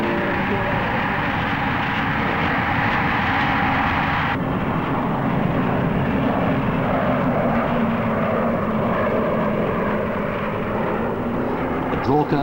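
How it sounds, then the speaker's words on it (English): Aircraft engines roar steadily at Palma Airport in Majorca, a loud, continuous broadband drone that shifts in tone partway through, with no talking. "the planes are in and out of Palma Airport like double-deckers"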